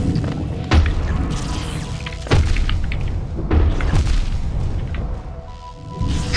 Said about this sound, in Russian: Тут что, какие-то взрывные яйца появились?